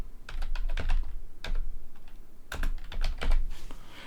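Keys tapped on a computer keyboard in quick bursts with short pauses, close and fairly quiet, no voice.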